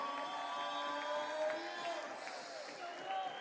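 Crowd cheering during basketball player introductions at a Yotes versus Bushnell game, a steady roar of fans with whistles and shouts ringing through the gym, fairly faint and distant, with a voice over the noise.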